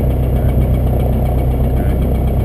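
A small aircraft engine idles on the ground before takeoff, a loud, steady low rumble with constant vibration and no change in pitch throughout.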